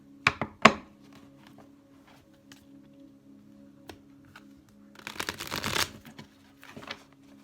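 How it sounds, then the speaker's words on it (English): Tarot cards from a Light Seers deck being shuffled at close range, with two sharp riffles at the start, a long quiet stretch with a low steady hum, then a dense flurry of card shuffling before a final softer rustle. "So I'm going to start with a shuffle here."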